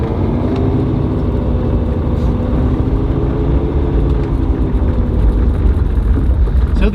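A Mercedes 300SEL on its first drive after sitting nearly two years, its engine running with a steady low rumble and road noise from inside the car, no clear revving, on a gloomy day.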